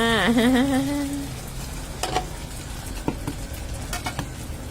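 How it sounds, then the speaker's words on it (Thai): Eggs frying in hot oil, a steady close sizzle with scattered crackles and pops, following a brief sung or spoken vocal at the start. "ทอดไข่ต้องรอให้น้ำมันร้อนๆ นะจ๊ะ"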